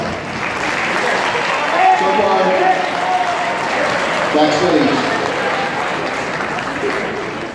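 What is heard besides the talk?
audience applause at a school chorus concert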